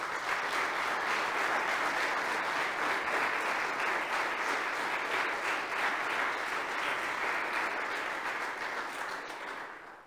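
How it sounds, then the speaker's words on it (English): A church congregation at a Lutheran worship service applauds steadily, a dense, even wash of many hands clapping that holds for about ten seconds before easing off slightly at the end. "will you please give them a round of applause?"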